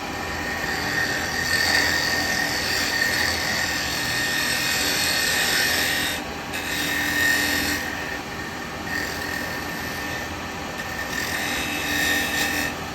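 A wood lathe spins steadily while a tool cuts a tea light hole into a wooden holder, giving a continuous whirring, rasping hiss with slight dips as the cut eases and resumes, close and loud.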